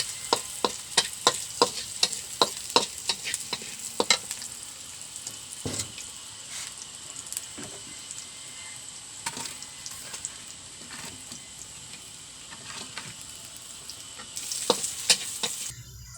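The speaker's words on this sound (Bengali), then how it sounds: "পেঁয়াজটা ভেজে নিচ্ছি আমরা।" Onions frying in a pan for a snakehead fish curry, with a steady sizzle under many sharp spatter pops that cluster densely at first, thin out, then pick up again near the end.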